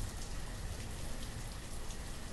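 Rain falling in the city-building game Banished, a soft, dense and continuous patter of drops, even throughout, with no voices.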